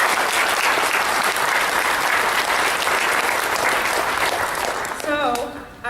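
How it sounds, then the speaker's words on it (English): Audience at a mental health awareness event in Prince William County gives a sustained round of applause lasting about five seconds, dense and loud before tapering off as a voice begins speaking at the end. "We have a round of applause for the stories, but also the resiliency that's just in this room"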